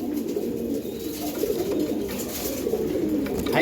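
A pair of Iranian pigeons gives low burbling coos over and over, close by and continuous, with a faint background hiss and no voices.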